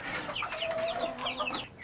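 Black Australorp hen and her chicks clucking together, a steady run of soft overlapping clucks and high peeps close by, with no voices.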